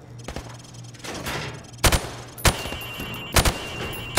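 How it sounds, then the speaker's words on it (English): A rifle fired from the hip on a training range in the game Modern Warfare Remastered: several loud, sharp single shots spaced irregularly, with faint background noise between them. "Now, shoot at the targets while firing from the hip."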